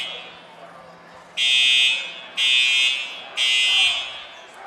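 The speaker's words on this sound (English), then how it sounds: "And yes, you hear the fire alarm in the background." A school building's fire alarm sounds three loud, even electronic buzzing pulses about a second apart over quiet background noise during a high school football broadcast.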